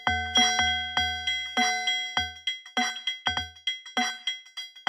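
Metallic, ringing tones from Ableton's Corpus resonance effect in a rhythmic pattern, each hit resonating with a bell-like, cowbell-ish decay, heard alone without speech.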